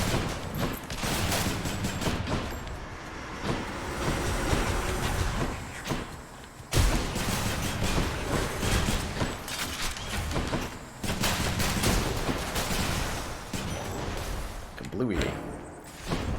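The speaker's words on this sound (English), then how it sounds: "they drop firebombs. That is definitely some support fire" Support-fire firebombs in Slay the Spire land as a dense, rapid barrage of loud, crackling bursts, almost continuous for the whole stretch with only brief gaps, while people talk over the noise.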